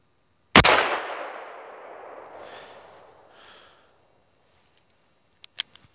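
A Ruger SP101 revolver fires a single .357 Magnum round outdoors in cold weather: one sharp, very loud close bang with a long rolling echo that fades over a few seconds, followed by a few faint metallic clicks.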